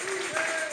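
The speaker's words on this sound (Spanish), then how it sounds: "Vamos a regalarle ofrenda de palmas al Dios de la gloria." A church congregation applauds in a brief burst, blended with sustained voice or music tones.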